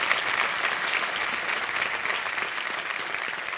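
A studio audience on the quiz show Kaun Banega Crorepati claps loudly and continuously, a dense, even wall of applause with no pauses.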